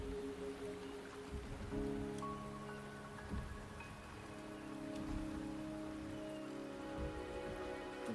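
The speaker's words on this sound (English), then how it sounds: "The rain is subsiding, and the sky will soon clear." Rain falls steadily in a video game, a soft continuous patter of drops on surfaces, faint and even throughout, alone with no voices.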